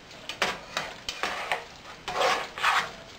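A spoon stirs a crab meat mixture with dry white wine in a bowl, giving several wet, scraping strokes in an uneven rhythm, close and moderately loud with no talk.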